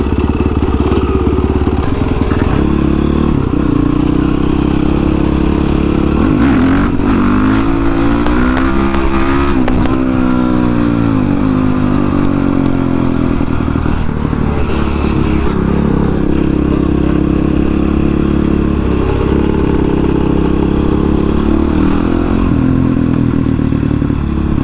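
A new Honda CRF 450X supermoto ridden up close, its engine droning steadily with rising and falling revs, accompanied by wind rush and occasional clattering thumps, no talking.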